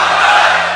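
A large crowd roars a chanted slogan in unison, a dense sustained wall of many voices answering a religious and patriotic call at a rally in Pakistan, loud and close for under a second.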